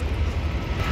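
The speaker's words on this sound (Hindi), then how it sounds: "जेट आ रहा है कहीं से, आवाज़ ही आ रही है सर" A jet aircraft roars overhead above downtown Toronto, a steady loud low rumble filling the whole moment with no talking.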